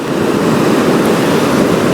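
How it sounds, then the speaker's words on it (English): Sea waves breaking on a shore, a loud, dense, continuous wash of surf with some wind rumble and no voices. "I've come here today just to listen to the sound of the sea."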